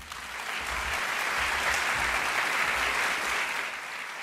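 Festival audience giving a strong round of applause welcoming Xavier Pedro on stage, steady dense clapping from a sizable crowd, sustained and even before easing slightly at the end.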